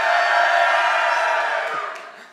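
A conference audience at a digital transformation talk cheers and shouts together, a dense steady roar of many voices that holds strong and then gradually fades toward the end.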